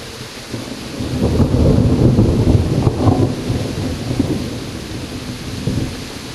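Heavy rain pours in the medieval game Kingdom Come Deliverance while thunder rolls in a long, loud rumble that swells and slowly fades over the steady hiss of the downpour, with no voices.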